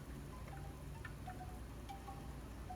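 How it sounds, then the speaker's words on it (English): Wind blows outdoors in a garden, a steady low rushing roar with microphone buffeting and no talk, and faint higher chimes or tones drift through it. "It's windy right now"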